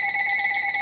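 A telephone rings with a steady electronic tone, sustained and fairly loud throughout the short stretch, alone without talk.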